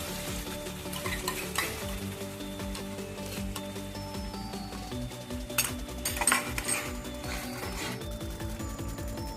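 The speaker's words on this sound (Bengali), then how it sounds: "মশলাগুলো কষানো হয়ে গেছে, এবার আমি দইটা এর মধ্যে দিয়ে দিচ্ছি।" Yogurt stirred into spices frying in a pan for a Bengali katla fish kalia: a steady sizzle runs throughout, with a spoon scraping and clinking against the pan now and then.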